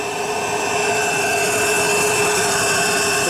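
A 1930s Carling steam turbine engine rated at 10 HP and 1800 RPM runs continuously with a steady whining hum and tonal drone, near and loud, with a slight pitch shift toward the end.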